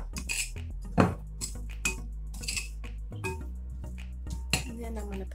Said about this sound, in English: Sprinkle some more on top and toss that around a little bit in the bowl here.